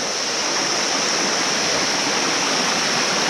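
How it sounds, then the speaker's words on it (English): A waterfall on a hike in Ilam, Nepal, pours steadily as a loud, close, unbroken rush of broadband water noise with no voices over it. "Here there's another waterfall"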